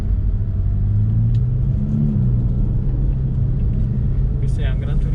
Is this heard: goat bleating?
no